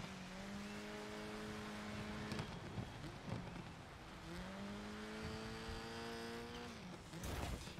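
A race car engine in the video game DiRT 5 revs and climbs through gears in rising whines, drops back between shifts and surges again, with bursts of gritty tire and surface noise in tough track conditions, fairly quiet overall.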